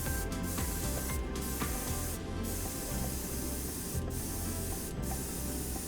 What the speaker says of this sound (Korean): 골고루 묻혀주다는 느낌으로 분사를 해줍니다.